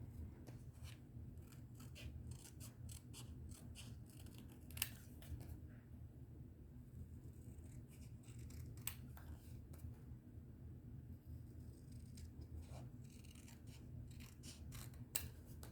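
Scissors cutting out a paper picture for a collage, a quiet run of close, repeated snips and paper rustles with short pauses between, alone without talk.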